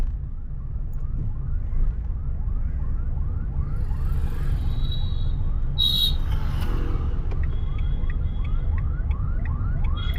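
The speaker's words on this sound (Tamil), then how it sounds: "ஒரு ஆம்புலன்ஸ் போது அந்த ஆம்புலன்ஸ் போயிடட்டும்" An ambulance siren wails in repeating rising sweeps over steady engine and road rumble, growing more prominent midway as the ambulance passes nearby.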